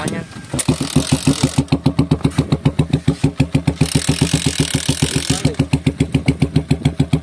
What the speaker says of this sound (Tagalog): papaganahin muna natin yung motor.